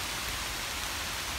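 Steady rain falls outdoors at Mission Tejas State Park in Grapeland, Texas, a dense even hiss with no breaks and no voices across the short stretch.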